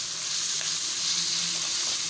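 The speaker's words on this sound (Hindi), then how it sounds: "अब हमने कीमा डाल दिया इसके अंदर।" Minced meat dropped into hot oil with browned garlic ginger paste gives a steady, dense sizzle and crackle, close and constant throughout, with no talking.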